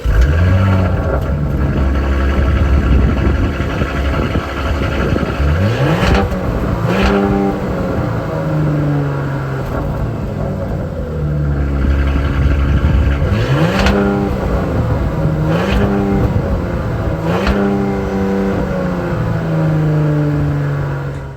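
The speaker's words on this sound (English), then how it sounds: "those quad exhaust tips. They look awesome and they sound awesome." A 2022 Porsche Cayenne S Coupe revs through its quad exhaust, loud and close, with repeated sharp rises and falls in engine pitch over a steady idle and no talking.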